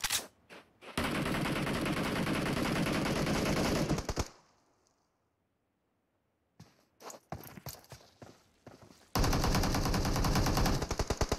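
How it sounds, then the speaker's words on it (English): Gunfire in an esports video game scrim: long bursts of rapid automatic shots, a few seconds of near silence, then scattered single shots building back into sustained fire. "The shots flying in."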